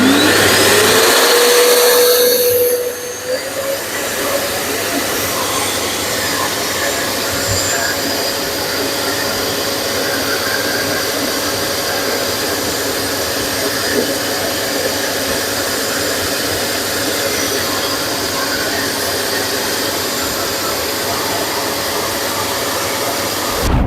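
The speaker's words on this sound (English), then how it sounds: "So let's have a look with maximum power and what difference it makes" A Parkside wet and dry vacuum runs at maximum power, a loud, steady, close whooshing roar with a constant whine that rises and settles in the first seconds, then holds unchanged throughout.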